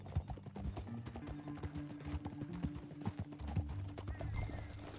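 Clip-clop hoofbeats of a horse in Red Dead Redemption 2, steady and fairly close, with a brief neigh, while a voice speaks over it.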